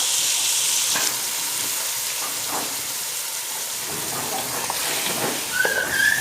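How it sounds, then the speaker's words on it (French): Tahwoult, a Kabyle dish, fries in a pot with about a glass of water added, giving a steady sizzling hiss with occasional stirring scrapes and a brief clink near the end, without speech. "il faut bien remuer aussi pour que ça ne colle pas à la marmite"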